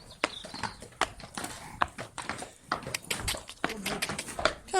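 Uneven hoof clip-clops on a hard surface, several horses stepping close by with irregular rhythm, no talking.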